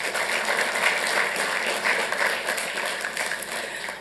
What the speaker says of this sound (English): applause to the Parks and Rec team